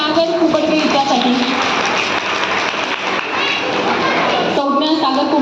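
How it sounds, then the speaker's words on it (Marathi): Loud, sustained applause and clapping from a crowd at a Shravan festival program game, held steadily for several seconds with a brief dip near the end, children and chatter mixed beneath. "जोरदार टाळ्या संज्ञा सागर कुबडगे हिच्यासाठी"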